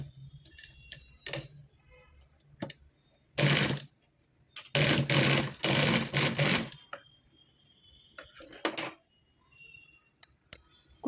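A sewing machine stitches a blouse latkan in several short bursts of rapid close whirring, separated by quiet gaps filled with small clicks and handling sounds.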